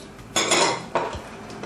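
Dishes and utensils clatter as boiled green lentils are tipped into a bowl, with a couple of distinct scraping clinks over a quiet kitchen background.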